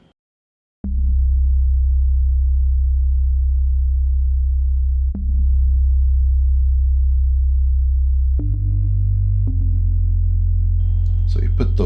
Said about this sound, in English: it's kind of an organ sort of sound, but it's got a really nice solid sub.